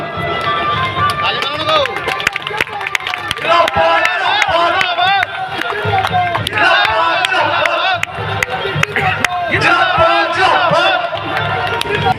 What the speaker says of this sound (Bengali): প্রত্যেককে বলবো একটু স্লোগান দেওয়ার জন্য